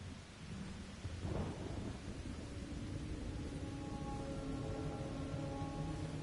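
Steady rain falls with a rumble of thunder in the Final Fantasy XIV video game, followed by a continuing soft downpour and faint tonal hum.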